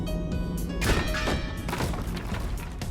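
Heavy thuds and knocks in the BONELAB VR game as a player dashes into blocks, a few solid impacts standing out over a busy, cluttered mix of game sound.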